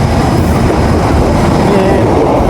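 A Chinese-built KRL Sifang CRC electric commuter train rolling along, a continuous loud rumble and rail noise heard from close by, with no speech over it.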